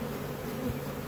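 Honey bees buzz close by in a continuous low, steady drone during a swarm trap rescue.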